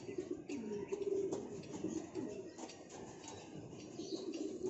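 Young racing pigeons coo softly in an aviary, with repeated low murmuring calls close by and faint outdoor background noise.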